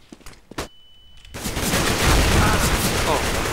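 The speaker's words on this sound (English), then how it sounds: "I'm throwing a flashbang!" A flashbang goes off in a CS:GO competitive match: a short tonal ring and sharp hits, then a sustained loud roar of blasts and noise over the rest of the moment.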